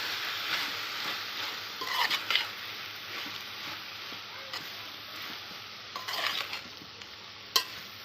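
A spoon scrapes and stirs through vegetables with garlic chili paste in a pan, with a soft sizzle underneath and a few sharper clinks.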